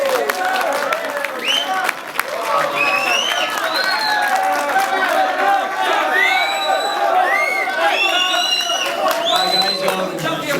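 A press-conference audience cheers and applauds the boxing champion after the Amir Khan versus Lamont Peterson fight, with a steady wash of clapping, shouts and excited voices filling the room without pause.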